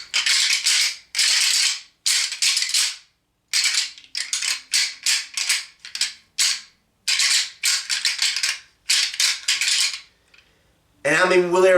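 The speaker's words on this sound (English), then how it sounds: "This is the Primos rattle bag." A Primos rattle bag deer call shaken in bursts of clattering, clicking rattles, loud and close, repeated many times with short pauses between, alone with no talk.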